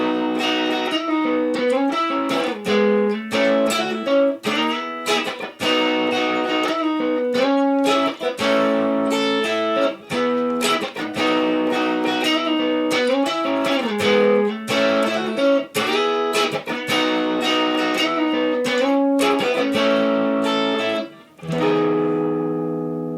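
Clean electric guitar played high on the neck, with melodic chords and single-note fills ringing out steadily and alone for the whole stretch before fading at the end.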